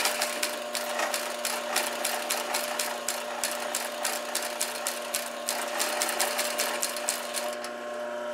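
A sewing machine stitches the side of a straw clutch, a steady rapid mechanical chatter of needle strokes running close and loud throughout, with short pauses as the stitch reverses.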